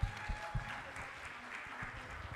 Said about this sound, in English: Can we have a huge round of applause for the team?